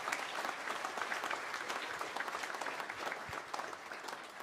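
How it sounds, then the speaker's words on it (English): Audience applause at a community event honoring donors, with a band present: dense, even clapping from a crowd, sustained and moderately distant for the whole stretch. "Big round of applause."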